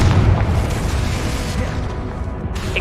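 A Confringo spell bursts in Hogwarts Legacy with a loud, heavy boom that rumbles low and fades over a couple of seconds, followed by fainter crackling.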